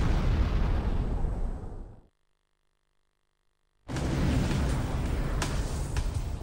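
A massive explosion like the Tunguska event over Siberia: a loud, roaring blast that cuts abruptly to dead silence for nearly two seconds before a second deep, rumbling burst erupts and keeps roaring.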